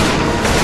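Gunfire in the video game Left 4 Dead 2, during the Crash Course Truck Depot finale: a loud, dense burst of rapid shots filling the brief moment.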